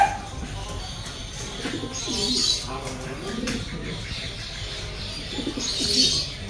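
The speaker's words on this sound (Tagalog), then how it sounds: "Anong klaseng mga kalapati to?" Pigeons of an unusual-looking breed cooing, soft repeated low coos in short bursts, with faint chirps and some background noise.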